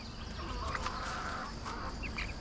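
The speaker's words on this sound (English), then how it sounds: "We think he's a rooster." A rooster in a backyard coop gives low, faint clucking calls over a steady background hum, with several short bursts spread across a couple of seconds.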